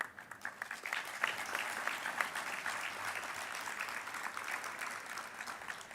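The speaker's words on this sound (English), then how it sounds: "Can I have a smile for that applause?" Steady applause from an audience at a cybersecurity fireside chat, a dense continuous patter of many hands holding fairly even throughout, moderately loud in a large room with no voices over it.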